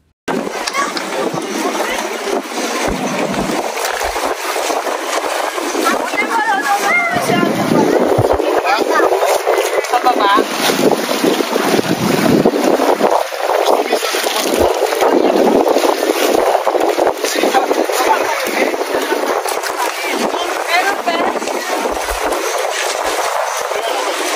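A motorboat on open water off Boracay, carrying a parasailing group, gives a steady, loud engine and wind roar throughout, with voices talking over it.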